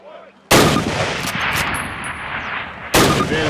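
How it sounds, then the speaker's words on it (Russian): Two loud, close rifle shots fired at a target on a training range in the Call of Duty video game, each a sharp crack with a ringing tail, spaced about two and a half seconds apart. "сделай 2 выстрела по мишени"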